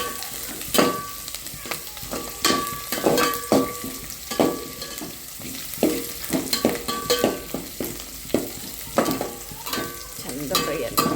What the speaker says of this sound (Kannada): ಉಳ್ಳಾಗಡ್ಡಿ ಅವು ನೋಡ್ರಿ ಎಷ್ಟು ಚಂದ ಫುಲ್ ಗೋಲ್ಡನ್ ಕಲರ್ ತನಕ ಫ್ರೈ ಆಗ್ಯಾವಲ್ರಿ.